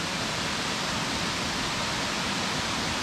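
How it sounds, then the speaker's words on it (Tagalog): Man-made waterfall in the hills of Antipolo, a dense, unbroken rush of falling water that stays loud and steady from start to finish with nothing else audible. "parang man-made na falls"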